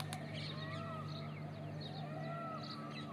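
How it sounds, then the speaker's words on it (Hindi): Peacocks call several times in the distance in a village in the morning, their wailing cries rising and falling over a steady low hum. "मोरों की आवाज़,"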